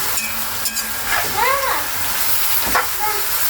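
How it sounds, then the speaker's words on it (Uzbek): Carrots frying in oil in a large pot for Uzbek osh (plov), a steady sizzle and hiss with occasional stirring scrapes and clanks, close and continuous. "Mana bir-ikki qovurib olamiz."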